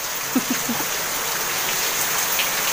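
Steady rain patters outdoors during a monsoon spell, a soft continuous hiss with a few close drips landing early on, with no one speaking.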